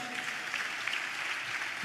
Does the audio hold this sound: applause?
yes